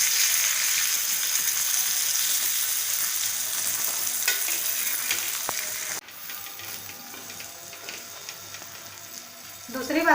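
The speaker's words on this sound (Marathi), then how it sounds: "5 मिनिटं आपल्याला पापलेट एका बाजूने फ्राय करून घ्यायचे आहेत।" Pomfret fish fries in a pan over medium gas, giving a steady, close sizzle that carries throughout, with a brief clatter near the end and no talk over it.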